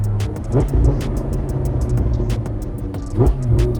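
A Lamborghini engine, loud and close from inside the car, blips and revs sharply on downshifts, with two distinct surges over a steady throaty drone.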